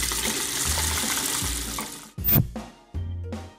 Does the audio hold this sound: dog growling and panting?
no